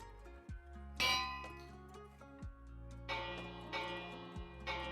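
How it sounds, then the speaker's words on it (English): A bell in modded Minecraft Skyblock clangs several times, each bright metallic strike ringing out and decaying over a sustained tonal background, faint overall with no talking. "That is just the bell."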